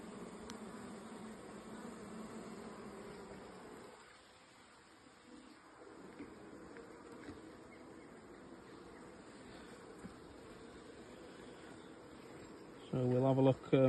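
Honey bees buzz around an opened hive during an inspection, where honey has spilled from a split comb, a steady close drone with a brief quieter dip and a few sharp knocks near the end.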